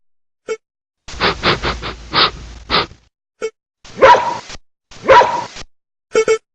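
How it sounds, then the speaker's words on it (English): A dog barks in a rapid cluster of sharp woofs, then two more separate barks, close and alone without speech. "dog,"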